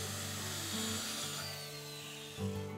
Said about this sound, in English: be sure to set your skill saw to be half the depth of the wood that you're using